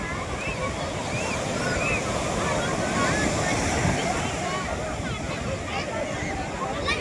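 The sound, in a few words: sea waves at the beach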